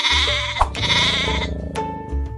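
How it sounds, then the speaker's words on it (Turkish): A sheep bleats in two long, wavering calls, close and clear, with no talking. "Koyunlar geçiyor."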